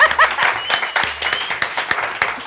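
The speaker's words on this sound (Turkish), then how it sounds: "Alkışlayalım beyefendi" A television talk show studio audience applauds, with sharp, close claps in an uneven rhythm and a few whoops at the start.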